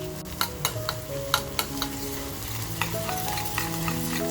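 Onions fry in a pan in a dry prawn recipe, with a steady soft sizzle under intermittent sharp clicks and scrapes of a spoon stirring against the pan.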